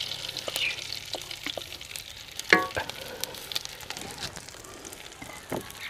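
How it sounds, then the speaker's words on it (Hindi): Fennel seeds frying in hot butter in a pan, a quiet close sizzle with light crackles and a few stirring clinks. "मक्खन को अच्छे तरीके से गर्म करने के बाद इसमें सौंफ शामिल कर देंगे।"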